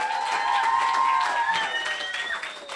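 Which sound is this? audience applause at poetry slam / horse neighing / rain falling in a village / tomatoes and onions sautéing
audience applause at poetry slam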